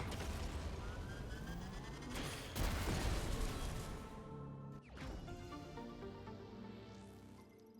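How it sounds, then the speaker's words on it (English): A powerful explosion in the video game Metroid Prime 4 Beyond bursts loudly at about two and a half seconds, dense and roaring, over continuous game music and effects, with a sweeping whoosh shortly after. "here it was extremely powerful explosion"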